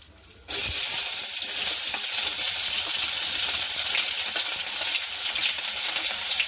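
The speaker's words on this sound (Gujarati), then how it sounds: "હવે લીમડાના સૂકા પાન અને લાલ મરચાં એડ કરી દઈશું પહેલાં આપણે કાંદા એડ કરી દઈશું" Onions sizzling in hot oil with curry leaves, dried red chillies, mustard seeds and cumin for Kathiyawadi urad dal, a sudden loud burst of frying that holds as a steady, close, crackling hiss.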